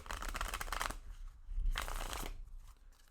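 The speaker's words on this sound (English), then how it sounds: "I'm going to shuffle these one more time." Tarot cards are shuffled in two rustling bursts separated by a brief pause, close and moderately loud, with no talking.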